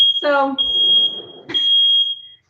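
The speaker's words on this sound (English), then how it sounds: "Yep, that's the smoke alarm." A smoke alarm set off by burning pancakes shrills in two loud, close, sustained high beeps, with a voice speaking briefly over the start of the first.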